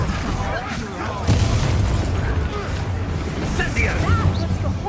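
An Incendio fire spell cast in a Harry Potter video game bursts in with a loud roaring whoosh that holds dense and steady over game music and effects, with no talk over it.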